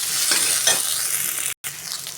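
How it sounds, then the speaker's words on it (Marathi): Okra frying with onion, garlic and curry leaves is stirred in a pan on a low flame, a steady close sizzle broken by scraping strokes of the spoon and one short silent gap. "पुन्हा एकदा आपल्याला असं हलवून घ्यायचं आहे."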